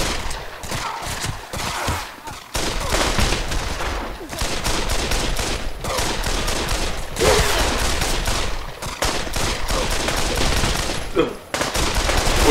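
Loud rapid gunfire from the Pavlov VR shooter game fills the whole stretch, with bursts of automatic fire and single shots in quick rhythm and brief lulls, while a player talks intermittently.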